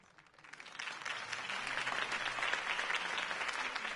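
Crowd applause in a Batman video game, a dense patter of clapping that swells from faint to steady and sustained, heard alone.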